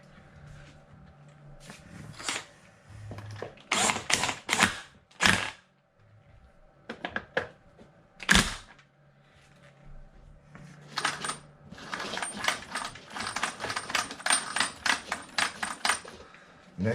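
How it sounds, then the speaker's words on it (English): Metal tools click and clatter on an ARRMA Outcast RC car while a tire is bolted on, with irregular bursts of sharp close taps and rattles separated by quiet pauses. "I'm going to bolt up this tire now and check the rear, make sure all the tires are tight."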